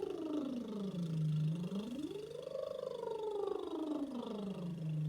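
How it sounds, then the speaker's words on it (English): A singer's lip trill for a vocal warm-up: a buzzing, voiced lip flutter that glides smoothly down, swoops up, then slides back down, sustained and steady without a break. "And now change direction and change the sound to a lip trill."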